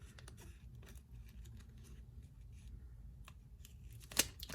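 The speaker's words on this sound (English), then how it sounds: "So we're going to cut" Scissors snip through paper while a holiday wine bottle label is cut out, several faint, irregular cuts in a quiet room, ending in a sharper crisp snip.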